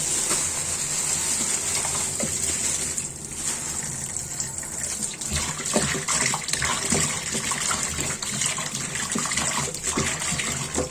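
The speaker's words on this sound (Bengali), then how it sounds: "মুরগিটা ঢেলে দিচ্ছি দেখুন।" Chicken pieces and water are tipped into a sink basin, producing a continuous loud gushing rush with splashing that stays steady throughout, close by and without talk.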